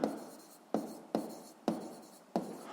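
A pen writes on paper in five quick, close strokes, each a sharp scratchy onset fading out, spaced roughly evenly in a quiet room.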